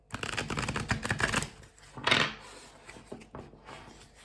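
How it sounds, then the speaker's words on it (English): A deck of tarot cards is shuffled close by in a quick burst of riffling flutter, followed by a brief pause, a sharp swipe of cards and a few softer taps. "So I'm going to shuffle the cards first, and then we'll see."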